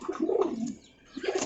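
Pigeons at a large pigeon farm cooing nearby, two soft throaty warbling coos separated by a brief pause, close and clear with no talk over them.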